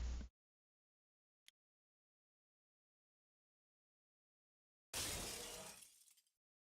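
Glass shattering sound effect from a shatter spell in the Talisman video game: a short burst, a faint tick, then a loud crashing shatter that trails off over about a second and a half.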